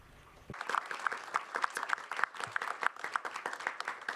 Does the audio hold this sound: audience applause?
yes